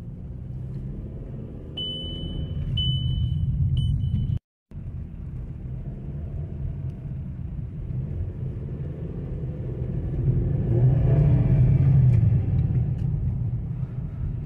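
A VW Golf engine running rough from a vacuum leak, with a steady low rumble and a faint light rattling and tapping layered over it, briefly cutting out once partway through.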